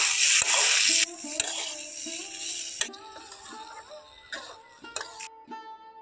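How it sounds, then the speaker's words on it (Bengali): Chili and turmeric powder stirred into a pan for a drumstick curry, with a loud sizzle at first that fades, broken by scraping of the spatula and knocks against the pan, close and without talk. "এখন 1 মিনিট মতো খুব ভালোভাবে নাড়াচাড়া করে নিয়েছি"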